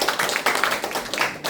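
A short burst of group clapping from residents of Jangseong County visiting Yeosu's Gososcheonsa mural village: quick, dense hand claps at close range, with no voices.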